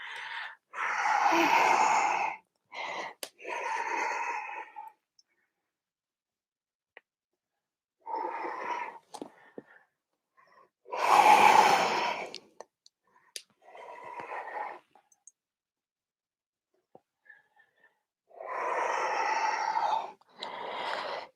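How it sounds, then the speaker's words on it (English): Slow, hissing Ujjayi breaths during a yoga practice, drawn through a constricted throat in long separate inhales and exhales with silent pauses between, close and clear. "Use some Ujjayi breath."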